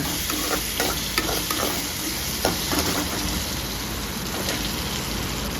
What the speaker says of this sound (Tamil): இப்போ நம்ம உரித்து வச்ச மொச்சக்காயை இதில் சேர்த்துக்கலாங்க.